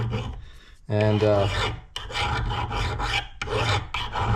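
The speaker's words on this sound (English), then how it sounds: "just take some material off this way. That's a one-directional file." Hand filing on a Massimo MB100 79cc engine part with a one-directional file, a bright raspy rubbing in repeated strokes close up, broken by a short burst of speech.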